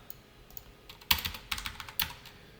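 Code is typed on a computer keyboard in a short burst of close, crisp key clicks, sparse at first and then quicker, fairly quiet in a still room.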